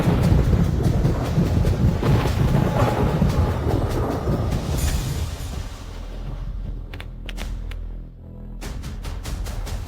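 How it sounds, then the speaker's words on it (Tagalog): Thunder rumbles long and low ahead of rain, a heavy rolling roar that slowly fades, followed by a few sharper crackling bursts. "Ano yun? Kumukulog."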